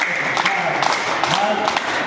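Schoolgirls at a girls' college in India clapping together, a dense steady patter of many hands in a room, with a voice talking over it.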